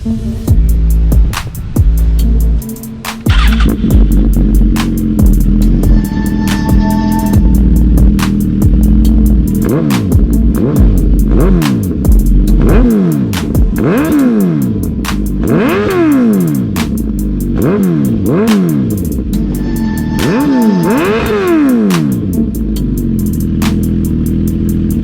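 A Suzuki GSX-R 1000 motorcycle fitted with a full exhaust idles loudly and is revved repeatedly, each throttle blip rising and falling in steady succession for the whole stretch, close and with no talking.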